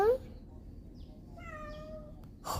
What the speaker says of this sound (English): Why is she meowing like that?